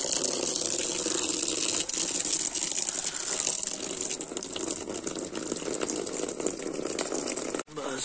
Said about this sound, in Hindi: तब तक मैं बेड़ू को पानी देता हूँ।